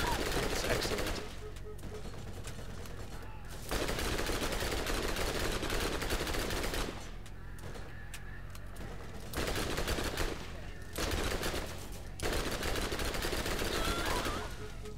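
Sustained bursts of gunfire in the video game Borderlands, loud and dense, with several long volleys broken by short pauses.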